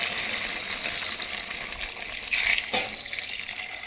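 Water is poured into a pan of country chicken curry, giving a continuous splashing, bubbling wash of liquid with a brief louder gush near the end and no speech.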